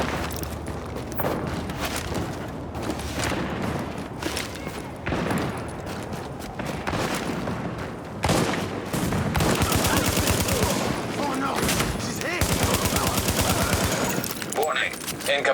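Sustained automatic gunfire from the video game The Division, dense overlapping bursts and rattling shots throughout, with louder volleys toward the end and a synthetic voice speaking over it.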